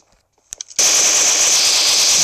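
Gunfire rings out in the battle-royale game PUBG on a training map. After a few short clicks, a loud, sustained burst of rapid automatic fire starts abruptly and runs unbroken to the end.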